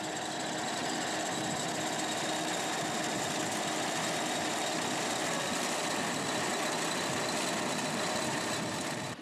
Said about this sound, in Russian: по закону ее раздавили трактором.